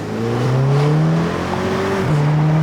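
A stock Volkswagen Golf R with its 2-liter turbo all-wheel-drive engine, heard from inside the cabin: a loud, steady engine drone that climbs and dips in pitch as the car accelerates and shifts gears.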